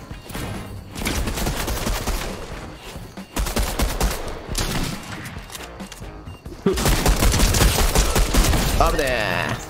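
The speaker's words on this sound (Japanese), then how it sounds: "ワンプン強いよこの武器、レバーショットガン。" Lever-action shotgun fire in Fortnite gameplay: dense, repeated gunfire bursts with booming reports, and the fire grows louder and more continuous toward the end, with no speech.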